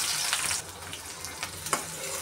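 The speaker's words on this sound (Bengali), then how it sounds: "এখন একটু হালকা ভেজে নেব।" Onions and whole cumin fry in hot oil, giving a soft, continuous crackling sizzle up close with a few small pops, and no talking.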